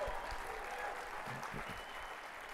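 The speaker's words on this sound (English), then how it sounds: "Let's give him a round of applause." An audience at a business conference applauds, a soft, even spread of clapping heard at a distance, faint but continuous for the whole moment.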